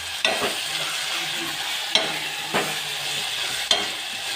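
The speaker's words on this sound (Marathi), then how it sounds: "ते छानसे परतून घ्यायचे" Mixed spice masala for cauliflower curry being sautéed in a pan, a steady sizzle broken by four or five sharp scrapes of a stirring utensil at irregular intervals.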